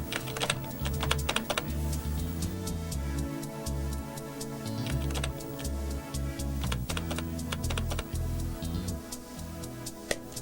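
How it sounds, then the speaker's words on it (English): Rapid, steady typing on a mid-1990s Windows 95 computer keyboard as a fax recipient's name and number are entered, the clattering keystrokes continuing throughout over a quiet musical background. "So first we'll type in the name and the fax number."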